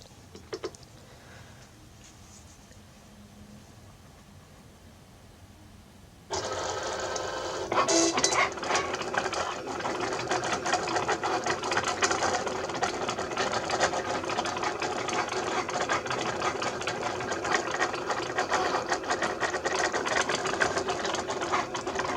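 Cricut cutting machine cutting window cling starts after a quiet stretch, then a steady mechanical whir with ticking and carriage movement continues up close to the end.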